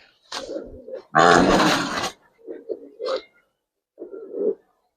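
Pigeons in a loft, Gribaz coloring birds being handled, give low throaty coos in several short bursts, with one loud, rough flurry that could be flapping wings. Brief pauses separate the calls.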